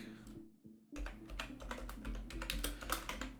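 Rapid clicking of a computer keyboard during typing. A brief quiet pause gives way to a dense, uneven run of close, crisp keystrokes, with no voices.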